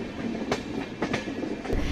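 The Yoga Express train clatters along the rails on a wide curve, with rhythmic wheel clicks and a steady rolling rumble heard from inside the carriage.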